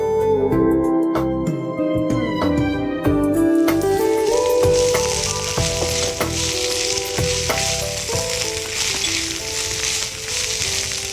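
Fresh spinach hits a hot frying pan for palak kadhi, with a loud close sizzle that swells into a dense hiss, broken by utensil clinks and stirring scrapes, no talking.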